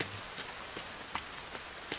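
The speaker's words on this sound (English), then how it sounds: "Because it's raining?" Rain falling in the survival video game The Forest, a soft steady patter with scattered brief drop ticks over a quiet hiss, fairly faint and with no talk.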